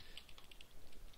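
Quiet, rapid keystrokes on a computer keyboard, a brief steady run of light clicking taps.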